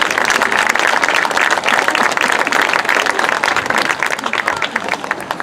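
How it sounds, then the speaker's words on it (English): A school event audience gives a loud, sustained round of applause for the parents who helped, dense clapping throughout that thins slightly near the end. "I want to give a round of applause to those parents that helped us"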